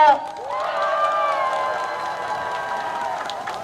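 A campaign rally crowd in Hoengseong cheers and claps for a candidate, a sustained mix of raised voices and applause that holds at an even level throughout.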